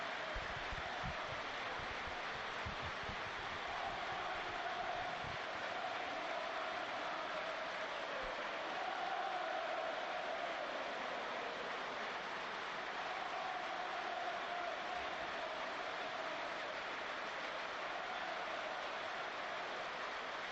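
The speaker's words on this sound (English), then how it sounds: "This, of course, is applause for Bradley Lowry." Sustained, distant crowd applause filling a football stadium during a Sunderland versus Watford match, a steady wash of clapping without clear breaks.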